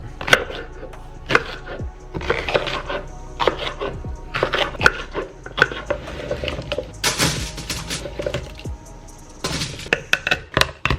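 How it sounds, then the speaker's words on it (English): Garlic cloves being crushed to loosen their skins make a series of sharp, irregular thumps and cracks on a hard surface, close and fairly loud, with brief pauses between bursts. "Just crushing these to take the skin off the garlic cloves."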